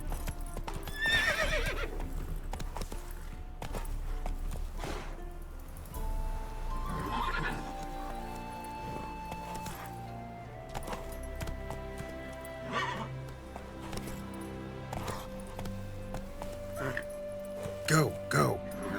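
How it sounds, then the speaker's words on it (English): A horse in The Witcher 3 gallops with rhythmic clip-clopping hooves and neighs at times, heard among game sounds and voices. "Run, Roach"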